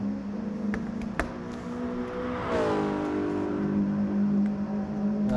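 Group 4 race car engines drone steadily in a racing video game, and one car sweeps past partway through with a rising, then falling engine pitch, over a constant background hum.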